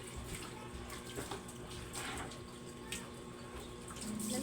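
Water runs steadily, probably from a tap, a continuous faint rushing with a few small splashes and knocks, and no voices.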